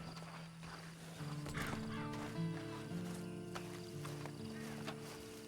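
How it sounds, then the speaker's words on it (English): A horse whinnies while hooves clop and shuffle nearby in Red Dead Redemption 2, over a sustained musical tone in the background. "Then you better get on this horse."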